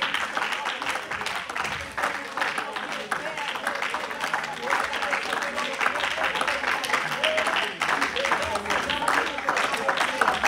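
A church congregation claps steadily in a large room, producing a dense, continuous patter of many hands with a murmur of voices blended underneath, holding an even level from start to finish.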